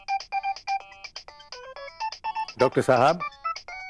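A telephone rings with a repeating electronic ringtone, a quick run of loud, evenly spaced beeps, while someone briefly speaks over it partway through.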